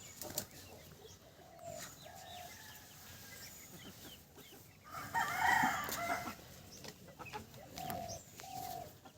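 Andhra roosters and chickens on a poultry farm, with faint crowing calls and a louder burst of wing flapping midway, all fairly quiet and distant against a steady background.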